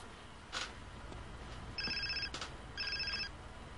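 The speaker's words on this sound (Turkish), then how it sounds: "Bak telefonu çalıyor." A cellphone rings in the video game GTA San Andreas: two bursts of an electronic ringtone, each about half a second long, over faint game background noise, with a few soft clicks in between.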